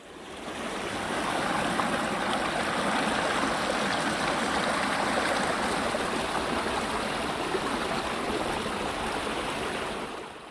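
A spring mountain valley stream on a cliffside trekking route flows in a steady, full rush of water that holds constant throughout, with no voices.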